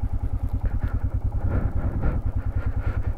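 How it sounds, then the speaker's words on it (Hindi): A motorcycle crawls slowly over a patch of black ice on a Nepal mountain ride, its engine chugging in a fast, even low pulse with faint clatter, close and steady with no talk. "देख रहे हो स्पीड, देख रहे हो कितनी स्लो चल रही है बाइक"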